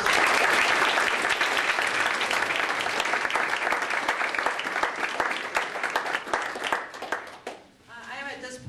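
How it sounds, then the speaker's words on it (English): A university debate audience at a Darwin Week event breaks into sustained, dense applause that fills the room, then thins and fades out as a voice begins speaking near the end. "Let's have a round of applause for our debaters."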